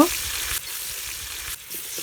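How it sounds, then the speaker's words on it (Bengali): Chicken vegetable rolls frying in hot oil make a continuous, close sizzle and crackle. Low bubbling and a couple of brief shifts in level run under it. "আমার চিকেন ভেজিটেবল রোলগুলো ভাজা হয়ে গিয়েছে আমি এখন তুলে নিব"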